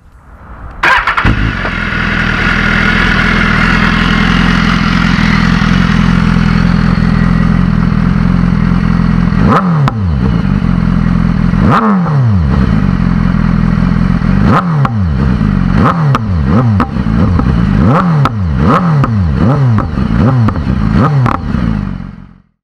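A 2015 BMW S1000RR motorcycle starts up and settles into a loud, steady engine drone, then revs repeatedly in rising and falling sweeps as it pulls away through the gears, close and dominant throughout.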